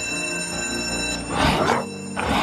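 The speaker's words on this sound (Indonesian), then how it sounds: "Alarm kebakaran pun berdering dan mengundang perhatian para zombie." A fire alarm rings out loudly in bursts, its shrill bell sounding twice over a steady background hum.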